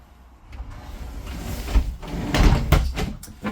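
Sliding door inside a Freedom Express Ultralite 246RKS travel trailer rolls open with a close, rumbling slide and a few clunks and knocks near the end, heard alone.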